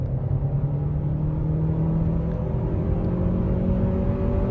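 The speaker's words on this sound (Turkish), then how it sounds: "70 km saat hıza kadar düştüm. Gaza sonuna kadar bastım." A VW T-Roc 1.5 TSI 150 hp engine at full throttle gives a loud, continuous droning rumble, heard from inside the car without a break.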